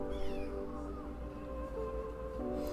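A pet cat gives squeaky meows indoors, with a high wavering cry near the start over steady background hum and music-like tones.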